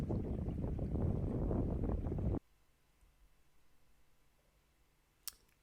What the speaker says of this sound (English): It is windier here, as you can hear.